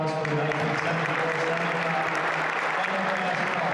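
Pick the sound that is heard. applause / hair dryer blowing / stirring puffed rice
applause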